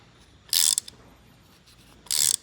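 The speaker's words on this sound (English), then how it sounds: "we tap our hole with the tap. Comes in the time-sert kit." A lubricated thread tap from a Time-Sert kit cuts threads into an exhaust manifold bolt hole on a 1966 Ford Thunderbird, heard as two loud, close bursts of metallic ratcheting separated by a quiet pause.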